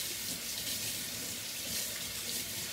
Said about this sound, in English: I'm just gonna rinse off my hand real quick.